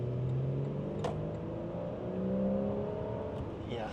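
A 2013 Porsche 981 Boxster with a six-cylinder engine pulls away onto a road, a steady engine drone rising in pitch as it accelerates, heard from inside the car.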